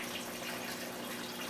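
Water runs steadily during an aquarium water change for discus, a faint, continuous hissing splash like a tap or hose filling a tank, with no talk over it.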